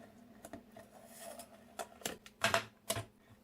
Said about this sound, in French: Et je le fais au cutter, hein.